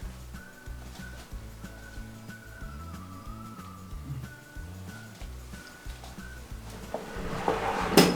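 A wardrobe drawer in a kids' closet slides open, a soft low scraping rumble running steadily for several seconds before a louder knock or bump near the end, with no talking.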